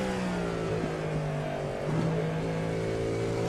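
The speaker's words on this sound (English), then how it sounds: "a really great sounding race car because of the raw horsepower you can hear of this Detroit-built engine" A Detroit-built race car engine in the iRacing simulation, a sustained droning roar with shifting pitch as revs dip and climb again midway, close and steady with no talk over it.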